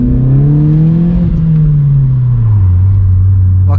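Vauxhall Corsa engine revving loudly from inside the car on a night drive through town, a steady strong drone that climbs and then sinks in pitch, close and continuous with no talk.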